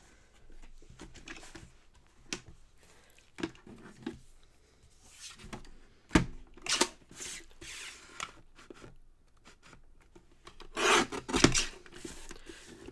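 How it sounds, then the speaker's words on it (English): Craft paper image trimmed at the front with scissors, giving soft intermittent snips and rasping rubs scattered across a quiet stretch, with a few sharper cuts near the end. "And I will trim off the front."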